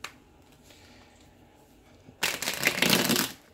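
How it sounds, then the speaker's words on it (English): Quiet room tone, then a close, crisp riffle of tarot cards being shuffled for just over a second before stopping. "let's get one more shuffle here"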